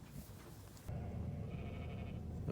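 Sheep bleating on a farm in subzero winter cold, a faint bleat early on, then steady low rumbling noise under more calls.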